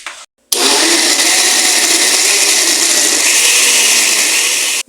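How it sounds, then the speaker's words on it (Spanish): A kitchen blender whirring as it purees tomato, onion, garlic and half a litre of water, starting abruptly after a brief pause and running loud and steady until it cuts off at the end. "vamos a licuar perfectamente"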